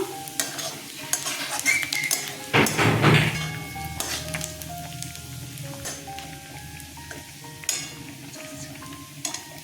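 Cashews frying in a pan for a chicken bharta, a steady sizzle with scraping stir strokes and clinks of a utensil, loudest near the start and then settling into a softer crackle.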